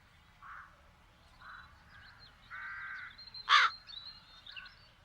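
Crows caw in a fantasy adventure video game, several harsh calls spaced a few seconds apart, one sharper and louder near the end, over a quiet low background.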